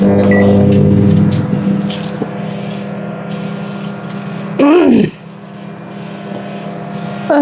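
Kitchen microwave oven humming steadily at close range, then a sharp beep or door clunk near the middle before the hum continues more quietly, with faint voices in the background.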